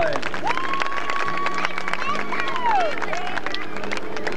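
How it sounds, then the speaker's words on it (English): A crowd at an outdoor stunt show claps for the Badgerland Barefoot Boys. The steady applause carries cheers, a long rising-and-falling whistle and voices mixed in. "how about a warm round of applause for Badgerland Barefoot Boys"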